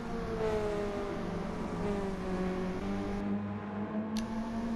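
A Mazda Roadster engine howls steadily at high revs through a lap of Brands Hatch in Gran Turismo Sport, holding a sustained tone with a slight pitch shift near the end, loud and continuous with no talk.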